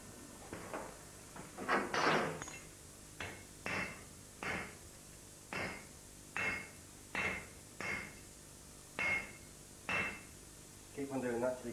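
A hammer strikes 10mm steel round bar on an anvil in a slow, regular series of about a dozen sharp metallic blows, each ringing briefly before the next.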